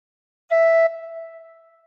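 Recorder note played with fingers one to five covering holes one to five: a single clear, steady tone blown once, strong at first, then softening and sustaining to the end, alone with no talk.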